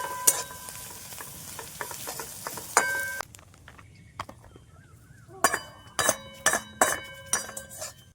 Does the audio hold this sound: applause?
no